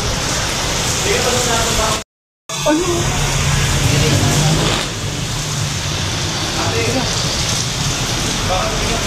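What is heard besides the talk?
heavy rain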